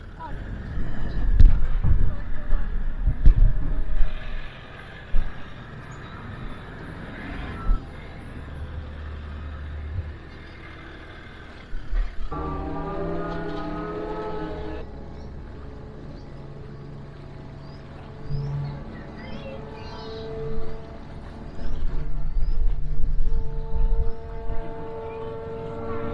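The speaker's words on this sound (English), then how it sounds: "So here we are, we're going across on the ferry, and that's pretty cool." A free car ferry crosses the water with a low, steady engine drone and rumbling hull noise. Tonal hum rises midway, and a few voices talk briefly in the background.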